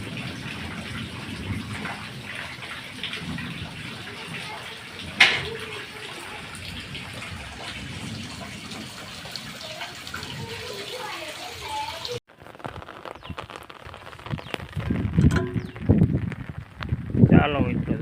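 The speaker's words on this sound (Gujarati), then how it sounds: "વરસાદ ધીમે ધીમે ચાલુ છે અને આખી રાત બહુ જ વરસાદ પડ્યો" Steady rain falls over Methala village farmland in a continuous wash of patter and drips, with a voice talking over it later on.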